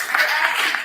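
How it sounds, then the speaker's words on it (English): An audience claps in a short, dense burst of applause, moderately loud and steady for under a second. "These claps after somebody says something when I'm just trying to respond."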